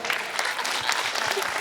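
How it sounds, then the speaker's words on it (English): An audience breaks into dense, sustained clapping, many hands together at a steady level, with a few faint voices mixed in beneath. "Clapping, make me feel good like that."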